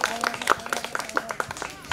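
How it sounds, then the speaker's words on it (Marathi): Clapping from an audience at a school annual function, a bright uneven patter of hands with distinct individual claps, while a voice speaks over it. "सगळे टाळ्या वाजवत आहेत."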